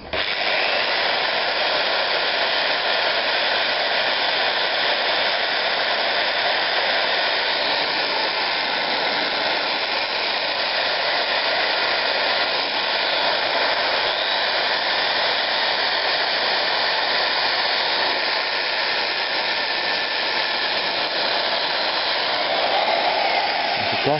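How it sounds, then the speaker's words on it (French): A cylinder is decarbonized with a power tool, producing a continuous loud, even whirring hiss that holds steady throughout with no talk. "Alors je commence par un petit décalaminage"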